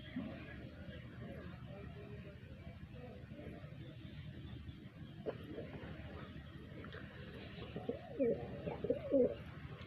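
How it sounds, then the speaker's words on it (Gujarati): Pigeons coo softly in low, rolling murmurs while being fed grain outdoors, several birds close together with the cooing growing busier toward the end; a person talks quietly in the background. "કબૂતરા રહ્યા અને આપણે દોણા ખવડાવીએ એમને"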